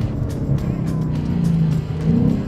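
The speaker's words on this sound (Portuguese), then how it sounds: "Olha a velocidade que esse câmbio funciona, cara. Trocas mega rápidas e precisas" A Ford Mustang Mach 1 with a 10-speed automatic runs at a loud, steady low engine note. The pitch shifts as it downshifts, with a rising rev near the end and no speech over it.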